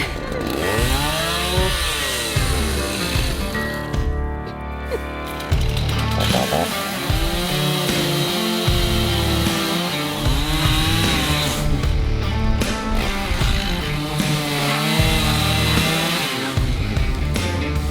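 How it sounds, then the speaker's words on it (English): A chainsaw runs loud and close throughout, its engine revving up and down in repeated surges. "you got too scared of that chainsaw."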